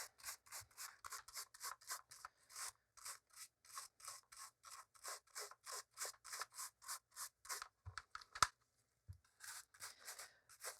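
A toothbrush scrubs a very dirty filter from a Miele CX1 Blizzard vacuum cleaner in quick, rhythmic back-and-forth strokes, close and fairly quiet, with a brief pause before the scrubbing resumes.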